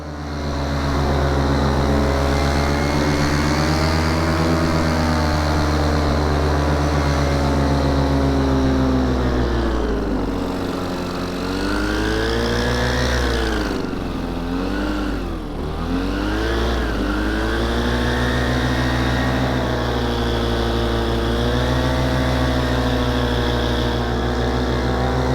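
A paramotor engine runs continuously in flight in thermal conditions, a loud, steady propeller drone that swells and dips in pitch midway before settling back, with no voices.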